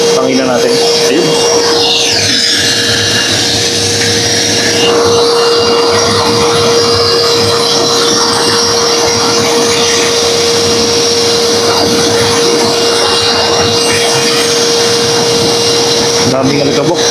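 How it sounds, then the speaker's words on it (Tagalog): A vacuum blows dust off a tuktuk chariot, a loud, steady whooshing drone with a constant motor whine that runs unbroken throughout. "vacuum"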